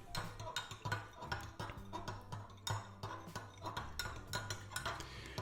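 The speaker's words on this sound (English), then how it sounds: "I'm going to take a spoon and stir the solution up." A spoon stirs a runny homemade hand sanitizer solution in a container, giving a steady run of light clinks and taps against the sides with no talking.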